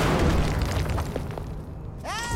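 A fiery Pyro Consecrate spell goes off in the Hearthstone card game, a dense booming burst with crackling that fades, followed by a rising magical shimmer near the end.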